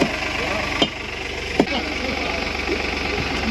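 A tractor engine rumbles steadily nearby as it is used to move a tank in a village, with a low, even idling drone. Two sharp knocks or thumps stand out, and a voice may be faintly present.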